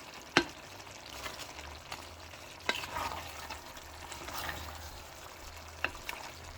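Lots of onions frying uncovered in a pan for Filipino bistek: a steady low sizzle with occasional clinks and scrapes of stirring, close and moderately quiet, no talking.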